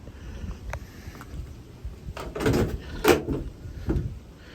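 The door of a Nissan Townstar L1 Tekna+ 1.3 130 van is opened, a series of close mechanical clunks and latch clicks, with the loudest thuds bunched near the middle.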